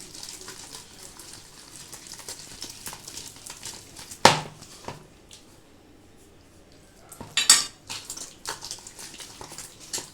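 Wet squelching and sloshing of a pumpkin and papaya batter being beaten with water in a bowl, fairly quiet and close, with a couple of louder splashy strokes and no talking.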